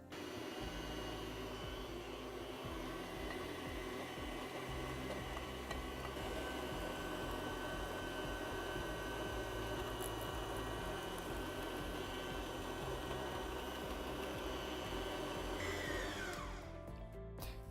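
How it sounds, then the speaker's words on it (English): An electric meat mincer grinding kibbeh dough runs steadily and loudly for a long stretch with a constant mechanical whir and grind, then winds down at the end. "Now I'm going to pass it through the meat mincer."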